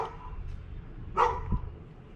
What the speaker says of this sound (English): The neighbor's dog apparently is barking at birds or something.